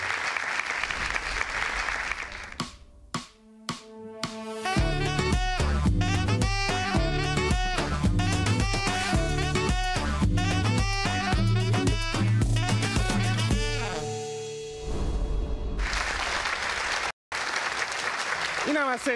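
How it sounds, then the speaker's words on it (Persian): Studio audience at a comedy TV show breaks into loud applause, which gives way to a musical sting and then swells again near the end. "تشویق کنید خودتونو."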